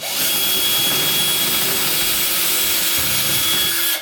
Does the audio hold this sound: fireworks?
no